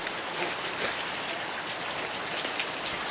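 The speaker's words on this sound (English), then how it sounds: "Just water dripping off here." Steady pattering of water drops splashing from rocks onto a surface on a hiking trail, dense and continuous like light rain, fairly close.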